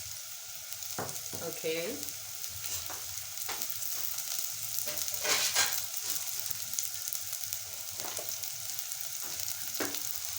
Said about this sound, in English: add in my onions right here. And we are gonna cook that really well.